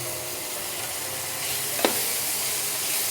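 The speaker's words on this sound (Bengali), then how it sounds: "ভালো করে এবার আবার নাড়িয়ে নেব। বেশ কিছুক্ষণ ভালো করে একটু নাড়িয়ে চাড়িয়ে নিলাম" Mixed fried rice dressed with Szechuan sauce is stirred in a frying pan, giving a loud, continuous hissing sizzle with one brief scrape of the utensil near the middle.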